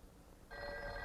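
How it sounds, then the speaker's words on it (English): A telephone bell in step-by-step switching demonstration equipment starts ringing abruptly after a brief low hum and keeps up a steady, bright metallic ring. "The connector now sends ringing current out on the called line until the receiver is raised."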